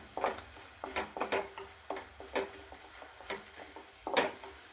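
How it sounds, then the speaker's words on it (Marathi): Spices and ginger-garlic paste for a Hyderabadi chicken dum biryani sauté in oil, with soft, rhythmic spatula scrapes and taps against the pan over a low, faint sizzle. "अद्रक लसूणची पेस्ट टाकल्यानंतर पुन्हा एकदा मसाले छान तेलात परतून घ्यायचे"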